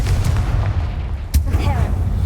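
Confringo blasting spell in Hogwarts Legacy going off as a single loud boom over a low rumbling game soundscape, with a spoken voice nearby.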